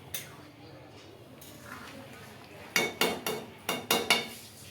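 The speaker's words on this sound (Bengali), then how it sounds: "সব মশলা দিয়ে আমি ভালো করে খুন্তির সাথে ডাল মিশিয়ে নিচ্ছি" A metal spatula stirs spiced lentil dal with ginger and green chillies in a pot. Soft scraping comes first, then a burst of six sharp clanks against the pot, near and distinct.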